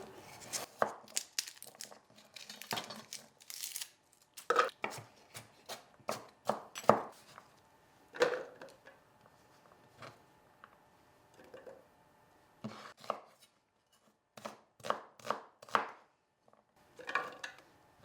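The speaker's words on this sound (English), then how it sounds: "I'm just gonna chop them roughly" A knife chops vegetables, including red onion, on a cutting board in quick bursts of sharp taps with short pauses between, close and crisp, no voices.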